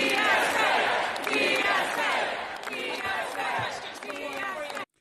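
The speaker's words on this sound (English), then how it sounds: "Would you like to hear what this crowd was chanting last night?" Protest crowd of Democratic Socialists of America supporters chanting together in unison at a nighttime demonstration, a loud, dense roar of many voices rising and falling in waves for about five seconds before cutting off abruptly.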